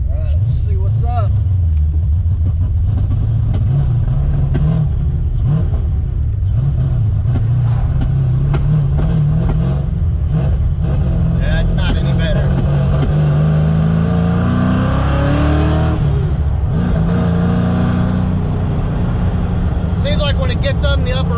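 Fox body Mustang with a 331 stroker engine and aggressive cam revs hard on the road, the loud engine note climbing and falling through the gears and clearing up at high RPM, with someone talking over it.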